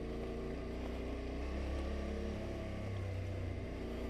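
An off-road vehicle crawls in first gear along an open green lane in the Lakes, its engine a steady, close, low drone that holds throughout with no talking.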